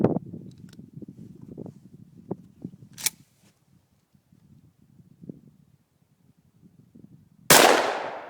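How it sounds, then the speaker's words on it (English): A Dominion Arms Grizzly shotgun with an 8-inch barrel fires a single loud, close blast of number 4 shot, preceded by quiet handling clicks and shuffling. "So, 10 yards, number 4 shot, 8-inch barrel."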